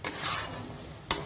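Garam masala, red chili powder and other spices are stirred in a hot pan for stuffed parwal curry. Close, scraping strokes sound over a soft sizzle, with one sharp scrape near the end and no talking.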